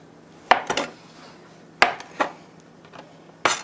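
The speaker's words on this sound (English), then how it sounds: "I'm chopping it up" A knife chopping cooked chicken into cubes on a cutting board for fried rice, a few sharp close knocks spaced about a second apart, each followed by softer scraping taps.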